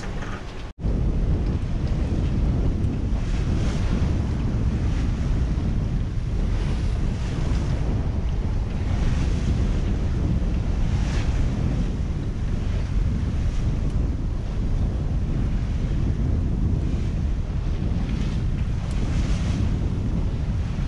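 Big ocean waves surge and wind roars across the microphone throughout a rough sailing crossing toward Inagua under double-reefed main and reefed genoa, a loud continuous broadband wash with no talk.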